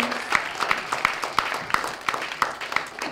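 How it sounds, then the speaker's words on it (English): An audience applauds at a spoken-word poetry event, a steady patter of many hands clapping at moderate loudness with a few sharper individual claps standing out. "can we get a louder round of applause for that?"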